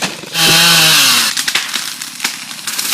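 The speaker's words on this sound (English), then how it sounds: "I feel the same way about chainsaws" A chainsaw felling a tree revs loudly for about a second, its pitch dropping as it bogs down, followed by rough cutting and rattling noise.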